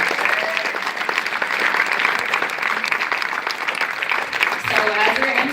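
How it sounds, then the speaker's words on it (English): A crowd claps steadily and warmly, with scattered cheers and voices mixed into the applause. "Please give another round of applause for Woosh Chicken."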